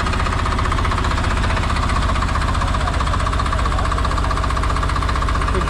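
The engine of a Massey Ferguson 5225 garden tractor runs steadily and loud up close, a continuous knocking rumble with no break for the whole stretch.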